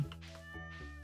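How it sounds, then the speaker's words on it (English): A cat meows in the Stardew Valley game, a single short meow up close over soft game music. "Little kitty goes meow."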